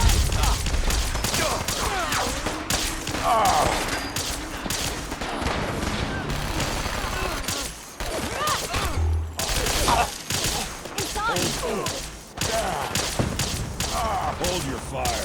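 Rapid bursts of gunfire in Fallout 4, loud, close volleys and crackling shots repeating throughout a chaotic firefight, with voices shouting over the shooting.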